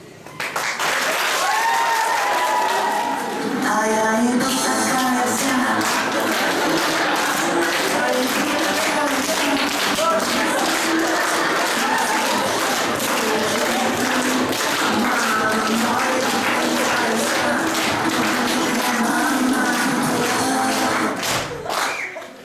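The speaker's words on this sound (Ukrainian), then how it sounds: "Зустрічайте бурхливими оплесками." Audience at a school New Year party applauding a performer, with steady clapping that fills the whole stretch, plus scattered thuds and some voices mixed in.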